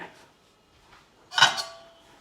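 A cooking pot is closed with its lid and set on the heat, giving one sharp metallic clank with a short ringing tail, plus a few faint clinks before it, no speech.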